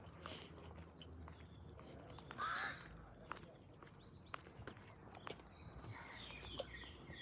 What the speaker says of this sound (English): I hear the crows can talk.